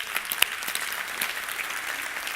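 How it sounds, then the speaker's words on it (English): A church congregation applauding single parents on Mother's Day, steady sustained clapping from many hands filling the room at moderate volume. "So we can applaud you."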